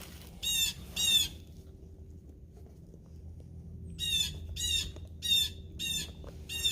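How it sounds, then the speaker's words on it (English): Birds that are attacking squawk loudly in two bursts of rapid, harsh calls separated by a quiet gap. Faint flapping and rustling sit under a low background rumble. "These freaking birds attacking."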